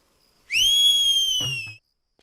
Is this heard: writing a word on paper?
no